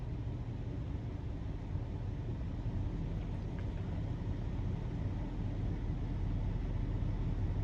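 A 2020 GMC Sierra 3500HD Denali dually pickup with a 6.6 diesel V8 idles at a stop, giving a faint, steady low rumble heard from inside the cab.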